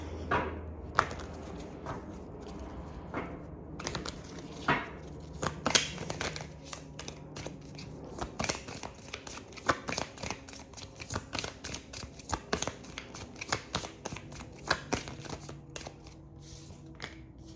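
Tarot cards being gathered up and shuffled close by, a steady run of papery riffles, taps and slides with irregular sharper clicks, quiet with no talking.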